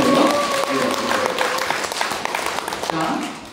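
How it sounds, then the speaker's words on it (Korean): An audience applauds first-time visitors at a gathering, a steady burst of clapping from a room of people with a voice speaking over it near the start. "우리 처음 오신 분에서 박수 한번 해주세요."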